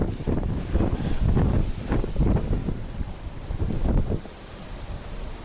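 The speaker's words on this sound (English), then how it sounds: "I don't remember the last time it's been this windy here" Strong wind on an island buffets the microphone in heavy, continuous gusts with low rumbling roar, easing noticeably near the end; no speech.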